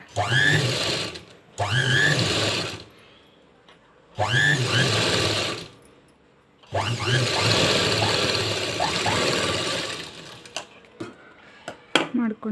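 Sewing machine stitching a blouse's lining and main cloth, running in several separate bursts of steady whirring with short pauses between, close and clear.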